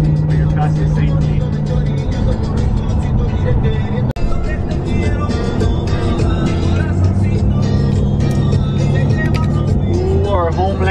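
Single cab truck driving on a Mexican road toward Nochistlán, Zacatecas, passing another vehicle in the opposite lane, with steady engine and road rumble throughout and talk over it.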